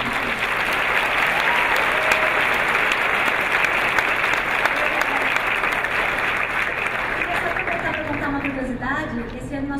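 A crowd claps loudly and steadily, a dense wash of applause that fades slightly at the end as a voice begins to speak.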